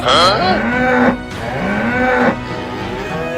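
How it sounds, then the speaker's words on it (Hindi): A bull in a flooded Indian village gives a loud, close moo, a long bellowing call that dips and then rises again before trailing into a second, shorter lowing, with no talk over it. "वो रहा एक सांड।"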